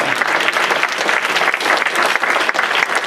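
A church congregation applauds together during a Sunday service, dense steady clapping filling the space close and loud for the whole stretch without a break.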